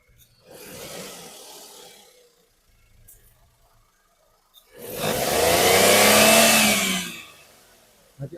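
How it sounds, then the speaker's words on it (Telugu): A 2013 Maruti WagonR LXI petrol engine runs in two bursts, a shorter revving surge followed by a louder, sustained rev lasting a couple of seconds before dropping away, heard close with no speech. "మనకి ఆయిల్ కానీ స్మోక్ కానీ కొట్టట్లేదు వెహికల్లో. చాలా సైలెంట్గా నీట్గా ఉంది ఇంజన్ కూడా."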